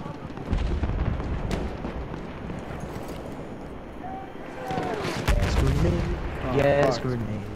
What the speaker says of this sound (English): Gas grenade. World War One, but a gas grenade.